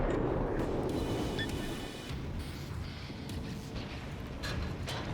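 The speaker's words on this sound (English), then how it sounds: "Let's keep launching shells at him. Keep launching shells." Warship shells fire in the World of Warships naval combat game, a run of heavy, rumbling booms that blur into a steady roar of distant battle noise with no voices.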